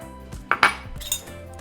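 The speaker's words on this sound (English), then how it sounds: "So now for our brown sugar and cinnamon, we're just going to mix them together." Brown sugar and cinnamon mixed together in a bowl for cinnamon rolls, with a few distinct clinks and scrapes of a utensil against the bowl, close and fairly quiet, with no talking.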